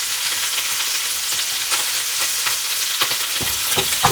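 Garlic and onion hit hot oil in a pan with a loud, continuous close sizzle and crackle, and stirring clicks and scrapes pick up toward the end.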